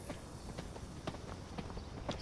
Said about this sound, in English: it's a deer. I thought someone was riding along on a horse.